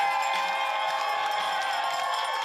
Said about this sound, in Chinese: 伫众人的欢呼声之下